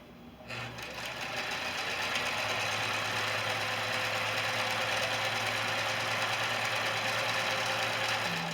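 A sewing machine runs continuously as it stitches a fat-quarter scarf, a steady close mechanical whir with a rapid rhythmic needle patter that starts abruptly and holds at even speed throughout.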